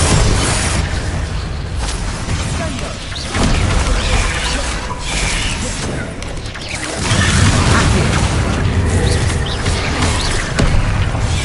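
Spell-triggered Bombarda explosions in GTA IV come as a run of loud, close booms and crashes with crackling debris, several blasts overlapping in quick succession across a sustained roar.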